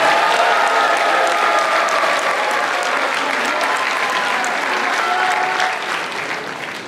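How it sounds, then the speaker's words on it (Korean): Sustained applause from a large audience at a party members' rally and inauguration ceremony in South Chungcheong, steady dense clapping throughout that thins slightly near the end. "박수 한번 크게 보내주시기 바랍니다"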